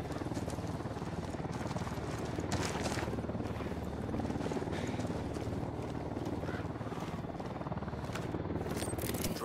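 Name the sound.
drone taking off in the video game Ghost Recon Wildlands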